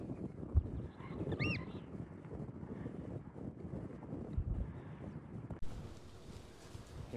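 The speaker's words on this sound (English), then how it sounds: "So windy." Wind buffets the microphone in uneven low rumbling gusts while cycling uphill on a Brompton folding bike in Dallas, with a brief faint honk-like tone and some rustling in the background.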